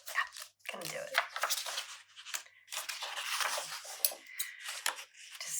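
Scissors snip through paper for a collage in quick, crisp strokes up close, a nearly continuous run of short cutting sounds with brief pauses between them.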